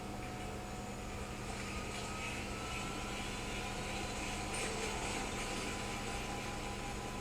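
An aircraft taking off in Resident Evil 8, a steady dense engine roar holding constant throughout with no distinct events, no talk.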